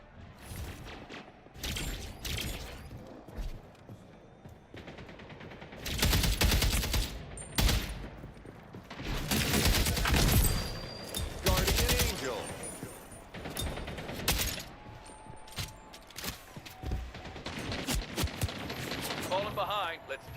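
Rapid bursts of gunfire from the arena shooter Splitgate 2 come in loud repeated volleys with gaps between them, mixed with game effects and occasional voice.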